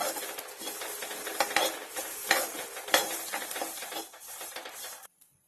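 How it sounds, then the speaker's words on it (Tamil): Cumin seeds dry roasting in a pan for homemade sambar powder, stirred steadily with scraping and light crackling for about five seconds, then stopping abruptly into near silence. "இப்போ சீரகம் வறுத்துக்கலாம். நல்லா வாசம் வருது."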